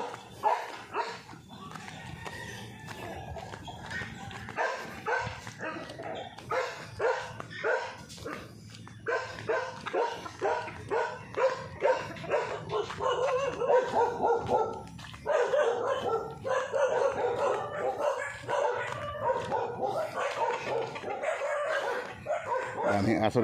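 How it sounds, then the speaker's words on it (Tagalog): Many dogs bark repeatedly along a mountain path, a dense, continuous chorus of overlapping barks and yips, some close and some farther off, lasting throughout with a person talking at times underneath. "Daming aso dito ang daan ko,"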